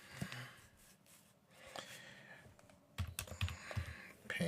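Short bursts of keystrokes on a computer keyboard while a PIN is entered during Windows 11 setup, close-up clicks in irregular clusters with soft breathing between.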